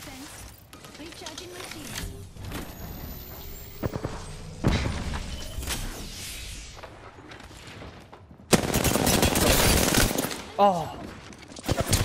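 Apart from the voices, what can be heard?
gunfire from a weapon emptying its magazine in the video game Apex Legends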